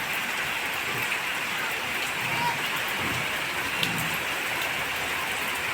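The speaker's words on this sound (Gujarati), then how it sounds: "વરસાદ પડ્યો છે જુઓ તમે જબરજસ્ત" Steady, dense rainfall hisses evenly throughout, a constant wash of falling water with faint background voices now and then.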